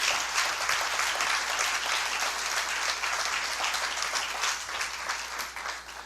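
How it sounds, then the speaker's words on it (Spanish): Steady applause from a church congregation fills the space for several seconds, a dense, even wash of clapping at moderate distance with no talk over it. "Dele fuerte aplauso al Señor."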